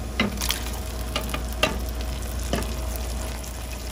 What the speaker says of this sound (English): I'm gonna go ahead and add our tomatoes.